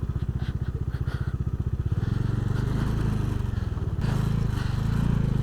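A motorcycle engine thuds steadily and loudly as the bike slides and rides over loose sand on a rough mountain road between Kaza and Manali, with the engine note rising partway through and gritty crunching underneath.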